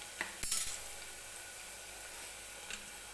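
Onion frying in oil until lightly golden for dal khichdi, a faint, steady sizzle with a few quick utensil clinks near the start and one more near the end.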